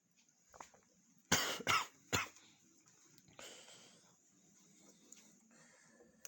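A few harsh coughs burst out close by in quick succession, followed by quieter rustling and faint background noise.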